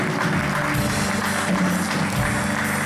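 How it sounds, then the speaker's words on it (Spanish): Applause from a church congregation during a Sunday morning service, a dense steady wash of clapping filling the whole stretch at moderate loudness with no pause. "Démosle un aplauso al Señor en esta mañana"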